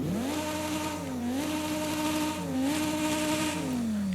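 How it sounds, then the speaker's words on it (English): A car engine in Forza Horizon 5 revs and drones steadily, its pitch rising and dipping a few times, sounding synthetic and game-like, with no talking. "as you can hear, revving engine in the area"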